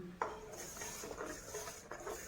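A spoon scrapes and clinks against a pot as custard powder is stirred into boiling milk, with a sharp knock at the start and soft intermittent stirring strokes after, faint and close.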